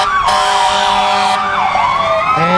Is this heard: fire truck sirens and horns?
yes